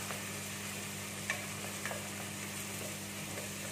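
Smoked fish powder (tinapa) being stirred into onions frying in a pan, a low steady sizzle with a couple of faint scraping clicks, recorded close in a home kitchen with no talking.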